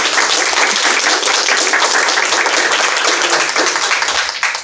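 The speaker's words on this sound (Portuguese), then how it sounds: "Posso pedir uma salva de palmas para ele?" Audience at a talk on corporate spokespeople breaks into loud, sustained applause, dense hand clapping that fills the room and tapers off slightly at the end.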